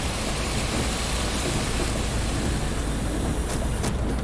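Rain falls steadily in the Tourist Bus Simulator video game, a constant broadband hiss with a faint crackle near the end.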